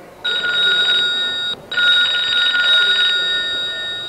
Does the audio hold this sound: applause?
no